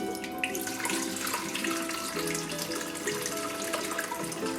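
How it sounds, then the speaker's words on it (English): Elderberry syrup pours from a pan through a strainer into another pan, a steady close trickle and splash of liquid that runs on without a break. "I have a strainer here in another pan, and I'm gonna pour it through there."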